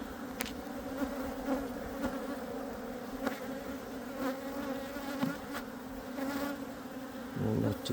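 Honey bees buzz around an open beehive in a steady, dense hum that holds close and continuous throughout, with no voices.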